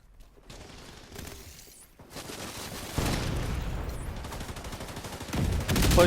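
Automatic and burst gunfire from enemies positioned above rattles in The Division 2, with sustained volleys that thicken and grow louder toward the end.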